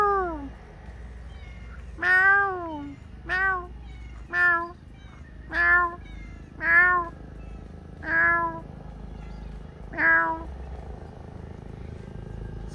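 A cat meows repeatedly, about eight drawn-out meows spaced a second or so apart, close and clear over a steady low engine-like rumble.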